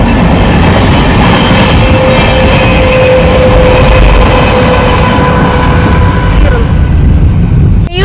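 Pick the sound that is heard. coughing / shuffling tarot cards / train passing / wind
train passing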